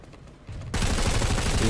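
Automatic fire from a MAX weapon in the game Planetside 2 during training, starting with a quieter lead-in and then breaking into a loud continuous stream of rapid shots that lasts to the end.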